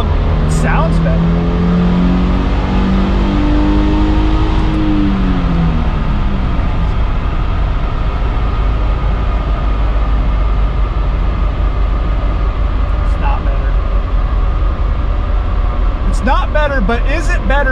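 Subaru XV Crosstrek engine revving during a tune, a rising then falling whine at the start over a constant loud drone, with a voice talking over it.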